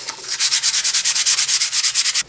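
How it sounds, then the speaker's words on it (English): A woodcut being sanded by hand with quick back-and-forth strokes, a loud, close, rhythmic rasping scrape repeated about eight times a second with no voices. "if you do not like the sound of sanding"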